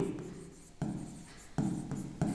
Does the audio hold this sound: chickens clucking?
no